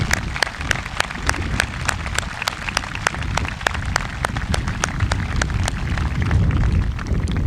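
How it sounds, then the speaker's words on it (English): A crowd at a high school graduation ceremony claps together in sustained applause, dense and even, with sharp individual claps standing out throughout. "Let's give all the recipients and donors a round of applause."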